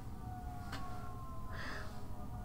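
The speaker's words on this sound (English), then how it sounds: "There are sirens going by." Emergency vehicle sirens pass outside, a faint rising wail with a brief sharper burst, heard distantly over a steady low hum with no talking.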